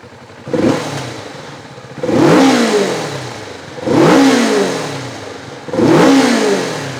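A Kawasaki Vulcan S 650 two-cylinder motorcycle engine revs four times in a steady cycle, each throttle blip rising then settling back to a rough, loud idle nearby.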